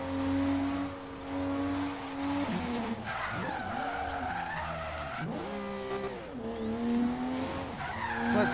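Twin-turbo all-wheel-drive Subaru SVX in Forza Horizon 3, sliding sideways with sustained tire squeal and wavering engine revs, loud and continuous, pitch swooping up and down as the slide changes.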